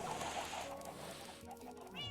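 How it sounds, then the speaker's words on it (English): Video-game chickens cluck in short, clipped bursts from an escaping coop flock, quiet and slightly distant, with a few overlapping calls in quick succession and no talking. "Chickens are escaping from the chicken coop."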